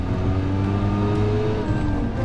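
Mazda RX-7 rotary engine with twin turbos and a catless exhaust pulling hard under boost, a steady loud engine drone with rising harmonic tones sustained throughout, close and continuous with no talk.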